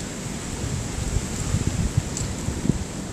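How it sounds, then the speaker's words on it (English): Wind blowing hard, with drifting snow, as a steady broad rush with low buffeting gusts against the microphone and no voices. "The wind is really blowing now."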